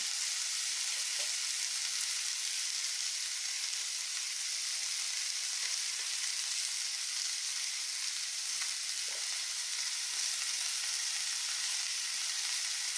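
Prawn biryani masala, seasoned with salt and turmeric, sizzles steadily as it is sautéed in a hot pan, a continuous close frying hiss with faint stirring scrapes and no voices.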